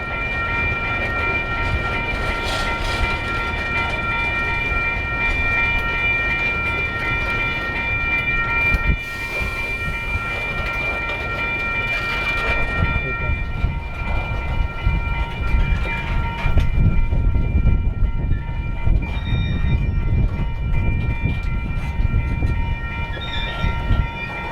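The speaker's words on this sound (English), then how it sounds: "This clip right here is about the slowest speed that coal trains go up the hill" A heavily loaded coal train climbs a hill at very slow speed, grinding along with a deep rumble, metallic squeals and steady tonal whine, continuous and loud throughout with no voices.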